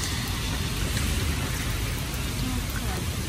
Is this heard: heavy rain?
yes